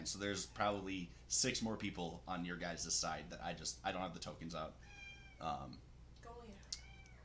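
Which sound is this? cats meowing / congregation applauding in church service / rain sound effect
cats meowing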